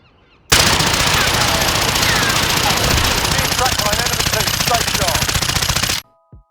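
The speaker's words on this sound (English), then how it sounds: "let's dive into a game and talk about some gameplay and shoot the gun at some things and see what it looks like." Sykov pistol firing nonstop in the Warzone video game, a dense, loud rattling burst sustained for about five and a half seconds before cutting off abruptly.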